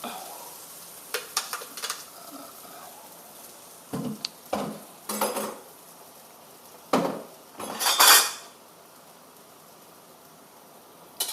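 A utensil scrapes and clatters against a pan in irregular bursts while stirring anchovies over a steady frying sizzle in oil, some strokes louder and longer than others.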